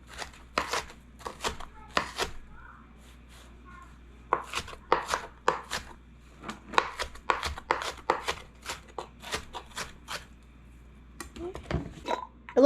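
A knife chops peppers and onions in quick bursts of crisp taps with short pauses between them, close and clear against a quiet kitchen.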